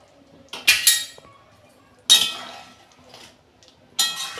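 Boiled eggs dropped into a covered cooking pot of Bengali egg curry, giving three separate bright clinks and clatters against the metal pot, each followed by a short sizzle, close and fairly loud.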